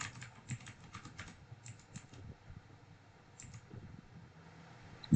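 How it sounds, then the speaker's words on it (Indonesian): Quick bursts of typing on a computer keyboard while network settings are entered on a PC, with close, crisp key clicks in short runs separated by pauses over a faint fan-like hum. "sepertinya kita ketikkan aja"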